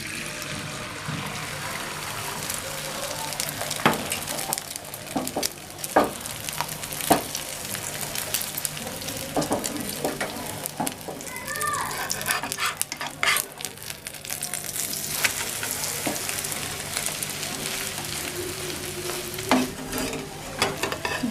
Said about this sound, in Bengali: কিছুটা ডিম আমি তাওয়াতে দিয়ে দেব।